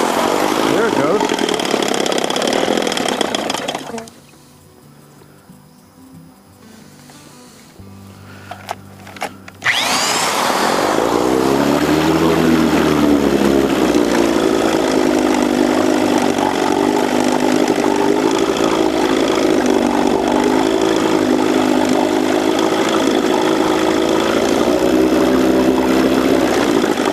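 A 1965 Evinrude 3hp outboard motor with a poorly adjusted carburetor that needs cleaning runs loud and steady near the listener, briefly dropping quiet before the engine catches again and keeps running.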